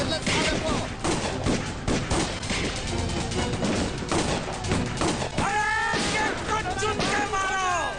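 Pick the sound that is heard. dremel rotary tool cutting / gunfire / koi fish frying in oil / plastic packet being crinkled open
gunfire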